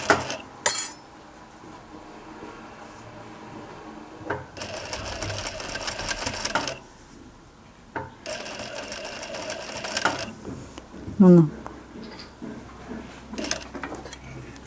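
A sewing machine stitches hoodie fabric in two sustained, steady runs of rapid needle clatter, separated by quieter pauses filled with light handling clinks and rustles.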